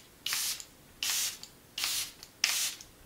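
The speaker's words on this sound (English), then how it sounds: "That is the Airbrush Flawless Setting Spray from Charlotte Tilbury" Charlotte Tilbury Airbrush Flawless setting spray misted in four short, evenly spaced hissing pumps, close and clear with no talk.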